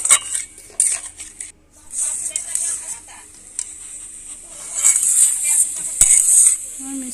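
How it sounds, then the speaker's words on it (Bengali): Metal utensil scraping and clinking in a wok while a sugar mixture is stirred over low heat for raw mango candy, irregular close scrapes with a bright hiss, under someone speaking. "হালকা আঁচে আমি নাড়তে থাকবো"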